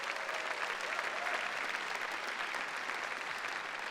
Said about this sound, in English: give yourselves a big round of applause for being here tonight